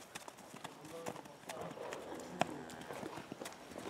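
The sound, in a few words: horse hooves clip-clopping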